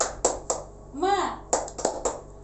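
Rhythmic classroom clapping chant, tepuk semangat, in an Indonesian third-grade class: sharp clustered hand claps in a quick pattern, close by, with a voice chanting in between.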